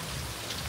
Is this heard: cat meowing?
no